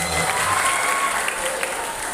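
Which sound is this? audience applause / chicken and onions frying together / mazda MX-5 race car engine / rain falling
audience applause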